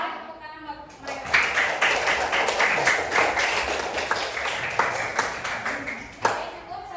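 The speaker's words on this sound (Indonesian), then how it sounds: "Tepuk tangan buat mereka." Students in a classroom clap together for several seconds, a busy patter of many hands at moderate loudness with voices talking over it.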